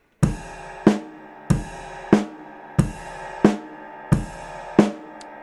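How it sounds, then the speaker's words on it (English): A simple drum pattern repeats four times: a bass drum and cymbal crash together, then a snare hit, evenly spaced, clear and close with no talking. "We could play a snare drum note in between the cymbal with the bass drum."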